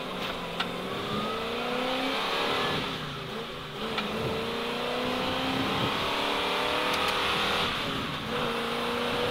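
A 1973 Mach 1 Mustang pulls hard on the Symmons Plains race track, the engine droning loudly from inside the car, with revs climbing and dropping through gear changes.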